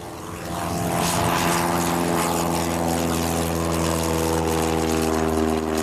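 Small propeller airplane taking off, a loud, steady engine and propeller drone with droning harmonic tones that builds in the first second and holds close and constant, with no voices.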